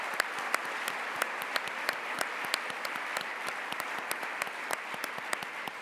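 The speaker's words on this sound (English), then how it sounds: "Another round of applause for Governor Carney." Sustained audience applause at a governors' summer meeting, steady dense clapping with sharp individual claps standing out, moderately distant and without speech.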